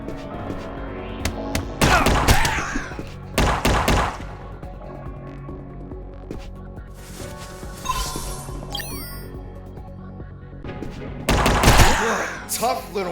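Bursts of gunfire from shooting in the stealth action video game UnMetal, with loud volleys near 2, 3.5–4 and 11.5–12 seconds over game music and effects, a few sharp single shots between.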